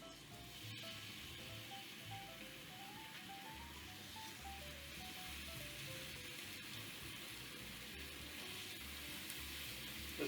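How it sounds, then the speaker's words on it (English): Bacon sizzles on a Steelmade griddle top laid over a stove, a steady close crackling hiss that runs unbroken throughout, with a faint melodic tone wandering in the background. "And we're going to make some bacon."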